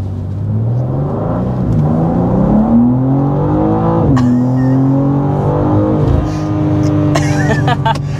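A 2024 BMW M2 with 453 horsepower accelerates hard, its engine climbing in pitch in close, loud sweeps with a brief dip at a gear shift, and a voice speaks briefly near the end.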